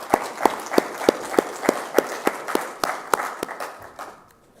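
An audience claps for a guest speaker at a cyber conference, making a steady, evenly spaced run of about a dozen loud claps that thins out and fades at the end.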